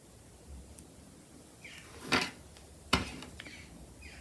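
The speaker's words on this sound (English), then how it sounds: "that scraping noise you can hear is my thread catching on" Beading thread scrapes and catches on scissors and small items on a crafting desk while making a beaded necklace, giving two short rasping scrapes about a second apart over a quiet room.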